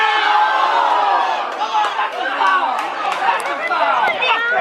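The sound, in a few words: people cheering while watching the NBA Finals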